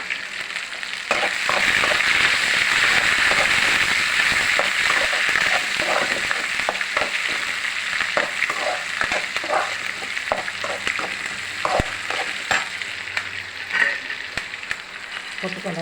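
Curry leaves frying in hot oil with green chili and onion while being stirred for a kurma, a steady loud sizzle with repeated scraping stir strokes running throughout, no talking.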